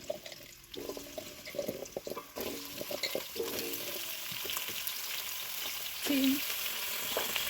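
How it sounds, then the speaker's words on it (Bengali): Loud continuous sizzling of potatoes, eggplant and carrots frying in oil, with stirring scrapes and clatter early on, then a steady close hiss throughout. "সবজিগুলো এখন ভাজবো তেল দিয়ে দিলাম"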